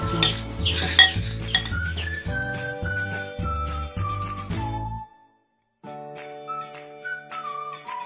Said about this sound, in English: we need to mix it well to combine